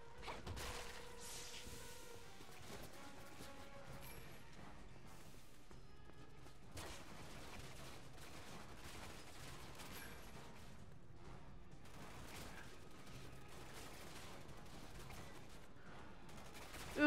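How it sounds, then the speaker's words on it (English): Enemy gunfire in Resident Evil 6, a busy run of faint shots and bursts scattered through game action and music, distant-sounding and low in level throughout. "Ah, they're shooting at me."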